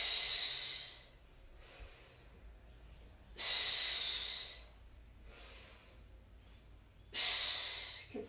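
Deep, loud breaths during a home Pilates exercise, three long hissing exhales spaced a few seconds apart with quieter inhales between, close up and with no talk.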